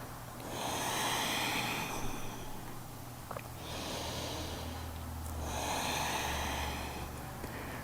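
Slow yoga breathing during a vinyasa flow: three long, airy breaths with steady rushing inhales and exhales, evenly spaced and close, over a low background hum with no talk.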